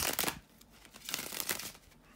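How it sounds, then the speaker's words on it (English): Cards are shuffled in soft, quick riffling bursts close by, two short rounds of papery flicking separated by a pause. "bear with me a second, guys, to shuffle the tarot cards"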